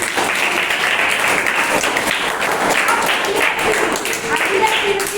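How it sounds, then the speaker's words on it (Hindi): Classroom students clap together during a measurement lesson, a loud, dense burst of hand claps filling the room, with children's voices mixed in. "सब लोग ताली बजाए से"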